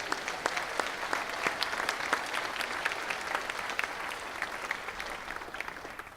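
Audience applause fills a school winter concert hall for the 8th grade and high school symphonic band, a steady dense patter of many hands clapping throughout, fairly close and continuous without a break.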